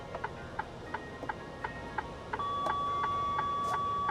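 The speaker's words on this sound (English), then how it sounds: "I get this long beep and then it like does something with my brake pedal" A truck's long continuous warning beep sounds in the cab, a steady piercing tone that starts partway through and holds, following a run of regular ticking clicks.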